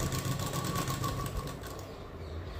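A sewing machine runs steadily, hemming the edge of a prince cut blouse with a continuous, close motor whir and rapid stitching rhythm that softens slightly toward the end.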